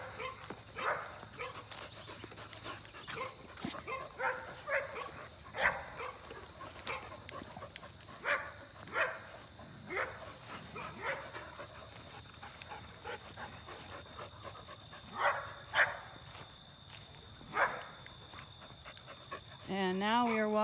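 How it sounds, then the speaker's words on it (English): Several dogs run about a yard with panting, scattered barks and whimpers that are soft and somewhat distant, heard under a steady background hum. "my personal dogs are out in this yard, and they're going to run up and down and bark at us"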